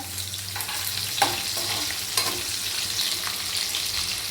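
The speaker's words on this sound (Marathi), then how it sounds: "याला छान आता आपण भाजून घेऊया तेलामध्ये" Chopped onion and green chili frying in oil in a pan for a traditional Marathi-style dish of kartule (spiny gourd), a steady close sizzle with a few brief louder crackles and stirring scrapes, no talking.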